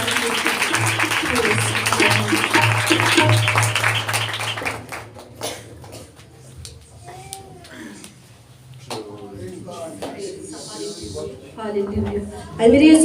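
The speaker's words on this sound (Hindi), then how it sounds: "जोरदार तालियां खुदाई पाक के लिए।" A church congregation at a Sunday Hindi-language Christian service breaks into loud, dense applause over sustained music for about five seconds, then the clapping fades into scattered voices and talk.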